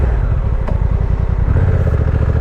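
Honda NT1100 motorcycle on its stock exhaust, idling and burbling with a deep, throaty, steady pulse close by, loud and uninterrupted, no voices.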